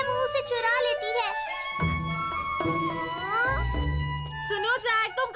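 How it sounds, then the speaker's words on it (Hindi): A black cat meows in a Hindi-dubbed Doraemon cartoon, several rising and falling cries mixed with children's voices and lively cartoon sounds. "वो एक काली बिल्ली है"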